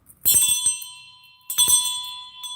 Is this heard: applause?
no